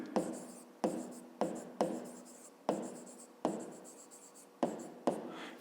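A pen writes by hand on paper in a math lesson, making about eight quick scratchy strokes, each a sharp onset that fades, close and quiet with no talk.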